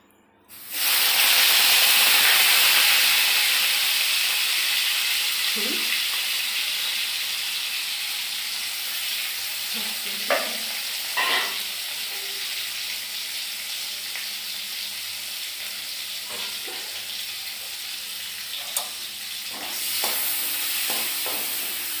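Vegetables and dried fish (shutki) dropped into a hot pan burst into a loud sizzle and hiss that slowly settles into steady frying, with scattered scraping clicks from stirring, close by and without speech.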